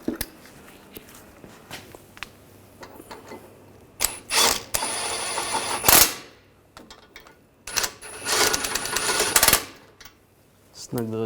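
A ratchet snugs down the brake caliper bracket bolts on a Volkswagen Tiguan, giving close, rapid clicking bursts in two main runs with quieter handling noises between them.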